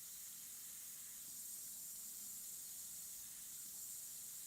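An airbrush sprays paint onto a macro painting of a cat's eye and fur, giving a steady, even hiss of air with no pauses and no voices.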